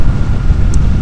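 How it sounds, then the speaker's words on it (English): Wind blast buffeting a rider on a Suzuki GSX-8R motorcycle at around 70 mph on a dual carriageway behind a small non-adjustable screen, a steady loud low roar with no break. "Just checking what the wind blast is like."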